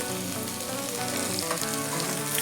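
Curry leaves fry in hot oil for Mangalore-style kadle sukka, a dense, steady crackling sizzle heard up close without a break.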